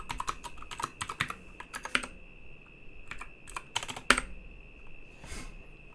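Someone types on a computer keyboard in quick uneven bursts of close, crisp key clicks separated by short pauses, with no talking.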